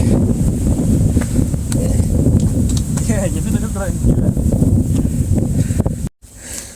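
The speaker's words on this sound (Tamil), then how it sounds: "காற்று எப்படி அடிக்குது பாருங்கள். அருமையான காற்று." Strong wind blows across a hilltop during a trek, making a constant low rumbling buffet against the microphone throughout, with a voice briefly heard under the gusts.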